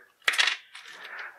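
Plastic board game dice from a Masters of the Universe board game drop onto a table with a sharp clatter, then roll and rattle briefly, close and clear with no talk.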